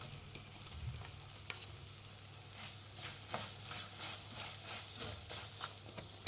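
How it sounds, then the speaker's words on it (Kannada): Puliyogare spice powder fries on low flame in a pan, a soft sizzle with repeated scraping stir strokes, close and fairly quiet. "ಒಂದು ಸ್ವಲ್ಪ ಇದು ಲೋ ಫ್ಲೇಮಲ್ಲಿ ಇಟ್ಟು ಗ್ಯಾಸ್ನ ಸ್ವಲ್ಪ ಫ್ರೈ ಮಾಡ್ಕೊಳ್ಳಿ"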